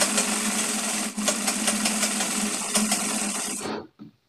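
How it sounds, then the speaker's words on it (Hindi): A sewing machine runs a line of stitching along the piping seam of a lined kurta's neckline, whirring steadily at close range with a couple of brief hitches before stopping abruptly. "हम उसी सिलाई पे सिलाई चला देंगे"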